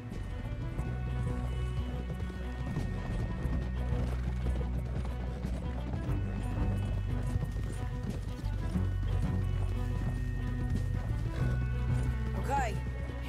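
Horse hooves clip-clop steadily over a busy Red Dead Redemption 2 game soundscape, with occasional mechanical clatter and a brief whinny near the end.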